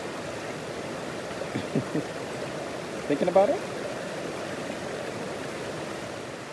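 Running water of a forest mountain creek flows in a steady, even wash close by, with a brief spoken question and a few short voice sounds over it.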